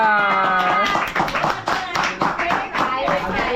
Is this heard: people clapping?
yes